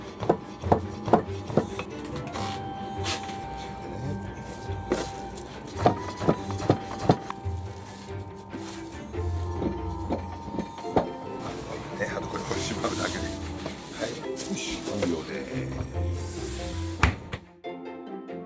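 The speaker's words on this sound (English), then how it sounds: "cutting the noodles is done the traditional way with the special soba noodle cutting knife" Soba noodles being cut by hand with a special soba knife in a traditional Japanese noodle shop: repeated sharp thunks and chopping taps on wood, steady and fairly close, with shop noise and voices underneath.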